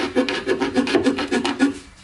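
Wood veneer being hand-sawn for a marquetry picture, with quick rhythmic rasping strokes, about eight close, loud back-and-forth cuts that stop near the end.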